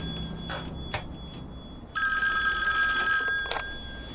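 Old-fashioned telephone bell in a radio drama, ringing in a bright metallic burst from about two seconds in over a faint room background, with softer clicks and knocks before it.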